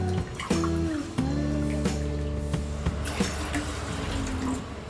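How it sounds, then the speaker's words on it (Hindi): Water pours steadily into a pan for boiling while making South Indian semiya payasam, six cups in all, a close, continuous filling splash with a shifting tone that runs for about five seconds. "पैन में हम डालेंगे 6 कप पानी।"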